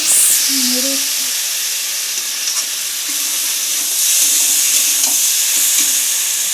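A spatula stirs food in an uncovered pan, scraping and turning through a loud continuous sizzle, with a few brief clinks, and no speech.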